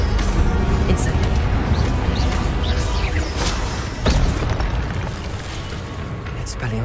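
Fiery spell blasts from Hogwarts Legacy's Incendio crackle and boom amid dense, continuous combat noise, with a sharper burst near the middle and a steady rumbling wash throughout.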